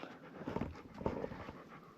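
A dog panting close by on a California coastal trail in Big Sur, with quick rough breaths in two louder bursts over a low outdoor background and no talk.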